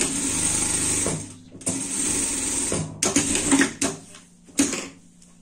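A sewing machine runs in bursts, rattling out a seam on a Halloween pumpkin dress, close and loud with short pauses between stitching runs.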